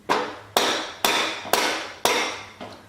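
Five sharp metallic strikes at an even half-second rhythm as a dirt bike front axle is bumped out with the end of a ratchet during fork removal, each hit close and loud with a short ring, no talking.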